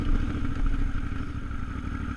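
A KTM 950 Adventure motorcycle rides through sand on the Moab Slick Rock Trail. Its engine gives a continuous, low, throbbing rumble with some clatter, heard close and without pause.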